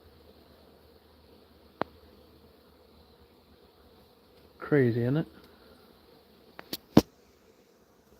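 Honeybees near a hive on a calm day, with a loud insect buzz passing close for under a second, followed by a few sharp clicks and a man's brief remark over quiet outdoor background.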